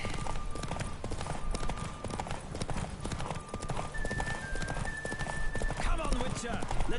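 Horse hooves pound in a steady galloping clip-clop during a race in The Witcher 3, continuous and close, mixed with game music, wind and a brief whinny.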